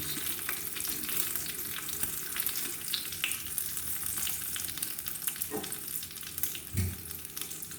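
Curry leaves crackling in hot oil for pineapple pulissery, a fairly quiet, steady sizzle with scattered pops and a few light stirring clinks, without speech.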